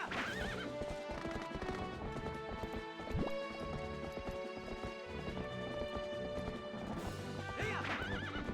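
A horse in The Legend of Zelda: Twilight Princess whinnies loudly at the start and again near the end, with rhythmic galloping hoofbeats throughout over the game's music.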